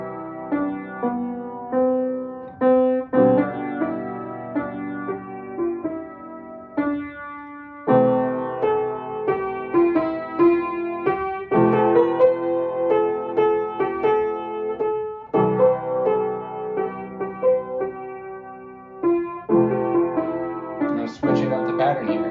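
Solo piano improvising over broken-chord patterns, steady rippling arpeggios with sustained harmonies, a brief pause near eight seconds, then the pattern resumes and shifts, played close and clear with no talking.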